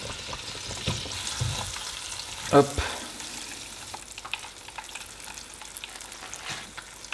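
Camembert frying in hot oil in a home kitchen, a soft continuous sizzle and crackle with small pops, fairly quiet and close, with one brief spoken word and a sharper clatter midway.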